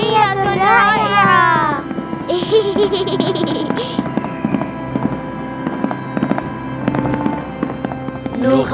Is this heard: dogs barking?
no